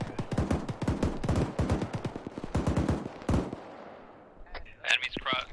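Short bursts of rapid automatic gunfire, loud and close, with rapid sharp cracks in quick succession, then a brief pause and a few scattered shots, with radio-like chirps near the end.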